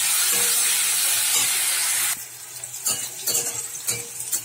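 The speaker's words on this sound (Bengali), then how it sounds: "চিংড়ি মাছটা ভেজে তুলে নিয়েছি, এখানে উচ্ছেটা দিয়ে দিলাম কড়াতে" Sliced bitter gourd frying in hot oil in a wok after prawns were fried and lifted out, giving a loud steady sizzle that drops to a lighter crackle with stirring scrapes toward the end.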